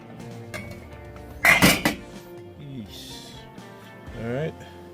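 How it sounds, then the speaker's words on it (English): A spoon clatters and scrapes against a metal pot in a short loud burst while stirring octopus cooked in coconut cream, with a person talking before and after. "I'm just gonna give that a stir, and then we'll leave the lid off"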